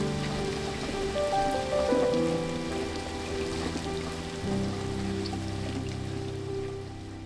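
Steady rain falls in Cumbernauld, a continuous hiss of drops pattering on surfaces, fairly close and even throughout with no voices.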